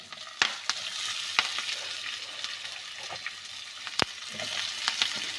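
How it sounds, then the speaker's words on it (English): Chopped onion with fresh curry leaves sizzles steadily in a hot pan, a continuous hiss broken by sharp scraping clicks of a spatula stirring every second or so, close and moderately loud with no talking. "So you have to fry this onion until it becomes brown."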